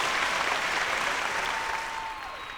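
An audience at a film awards show bursts into applause, a loud, dense clapping that starts full and gradually thins and fades over a couple of seconds.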